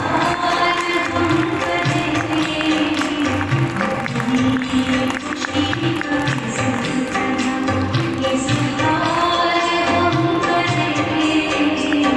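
An audience at a spiritual program in Rajpur clapping loudly and continuously, a dense sustained roar of applause with some rhythmic clapping and crowd noise throughout.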